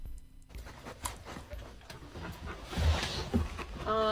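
A puppy pants rapidly and whimpers faintly nearby, with soft rustling in the background.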